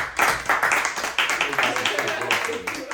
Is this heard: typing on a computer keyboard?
no